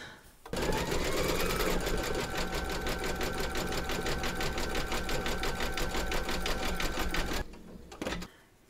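An embroidery machine satin stitches a segment of a Dylan Bunny design, a loud, steady rapid needle rhythm running for about seven seconds before stopping, then a brief clack.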